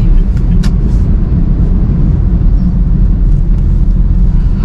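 A 2019 Honda Brio Satya E automatic hatchback driving, heard from inside the cabin as a loud, constant low engine and road rumble with a few faint ticks above it.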